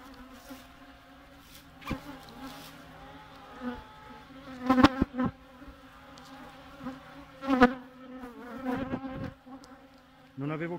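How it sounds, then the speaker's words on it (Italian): Three bees trapped inside a beekeeping suit near the wearer, buzzing with a close, steady droning whine that swells into louder, sharper bursts as they move about, with faint rustling of fabric. "mi sono entrate tre api dentro il camiciotto"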